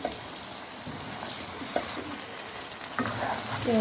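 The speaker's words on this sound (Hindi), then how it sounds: "इस टाइम पे मैं अच्छे से मिक्स कर लूँगी" A spoon stirs fried potatoes in a pan while a steady, low sizzle runs underneath, broken by a few scraping clinks.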